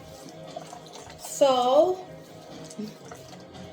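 Tap water runs briefly into a sink, a short splashing burst under a person talking nearby.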